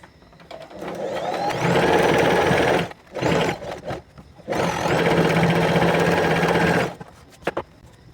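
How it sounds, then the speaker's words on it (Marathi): Sewing machine stitching lace onto a puff sleeve, two long steady runs of rapid needle chatter separated by a short pause with brief stop-start bursts, close and fairly loud. "लेसला डबल टिप मारून घ्यायची."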